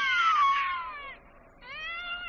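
A cat yowls in pain as flame is applied, a loud drawn-out wail that bends downward and fades, then rises again in a second strained cry, with no one talking over it.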